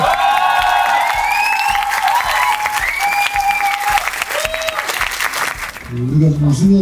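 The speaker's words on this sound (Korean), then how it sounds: "박수 한번 주시죠" Fan audience at a football club gathering applauds and cheers for the coach, loud continuous clapping with whoops and raised voices close by, with speech over the crowd near the end.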